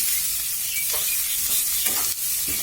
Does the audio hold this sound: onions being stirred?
yes